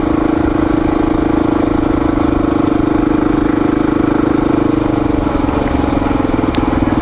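Honda XR motorcycle bored out to 440 cc, ridden along Wolfs Creek Road in Blairsville, Georgia, its engine a loud, steady, close drone that holds a constant note throughout, with no talk over it.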